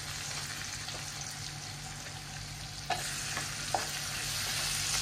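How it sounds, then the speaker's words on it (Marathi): Chopped tomato and Agri masala sauté together in a pan with a steady close sizzle, broken by a few clicks of stirring against the pan. "आता टोमॅटो मसाले सोबत परतवूया आपण."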